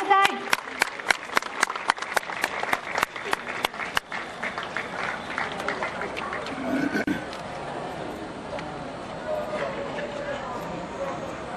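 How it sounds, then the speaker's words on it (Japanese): An audience at an opening ceremony applauds, with a few sharp, rhythmic claps at the start giving way to a broad, softer wash of clapping that gradually thins, while a voice speaks over it. "皆さんもう一度大きな拍手お送りください。"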